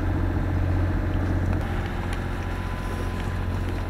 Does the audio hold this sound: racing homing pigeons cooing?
no